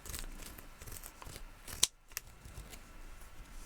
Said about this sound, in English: The scissors do not like this piece of fabric.